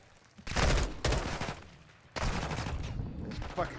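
Bursts of heavy gunfire and explosive blasts in the Call of Duty Modern Warfare 2 prison break campaign mission, two loud sustained volleys separated by a short lull, harsh and close.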